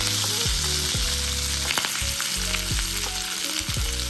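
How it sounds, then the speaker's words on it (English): Filipino sisig with mayo and Knorr seasoning sizzles loudly on a hot skillet or sizzling plate. A dense, continuous crackle and hiss fills the whole stretch with no break, up close, with faint tool clinks and no voices. "This is going on a hot plate too, so we're gonna heat up our skillet and put it on there."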